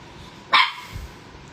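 A pet dog named Ginger lets out a single sharp, close bark that cuts through a quiet room, followed by a faint low huff.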